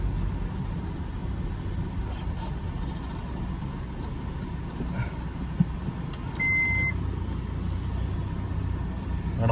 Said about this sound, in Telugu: ఇక్కడ మొత్తం ట్రాఫిక్ ఉంది